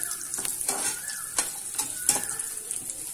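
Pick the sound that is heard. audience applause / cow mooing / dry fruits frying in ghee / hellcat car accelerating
dry fruits frying in ghee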